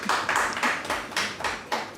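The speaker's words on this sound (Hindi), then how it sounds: "बिल्कुल सही, तालियां भाई।" A few people clap in loose, uneven bursts on a Karachi morning TV show set, sparse hand claps coming in short clusters at fairly close range, with no talk over them.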